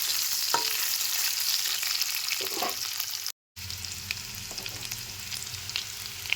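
Cut potatoes fry in oil with a steady, close sizzle and crackle, a few light utensil clicks, and a brief silent gap partway through before the frying resumes.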